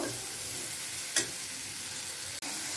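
Mango pieces with turmeric cooking in a pan, a steady close sizzle with one brief scrape or clink and a sharp click near the end.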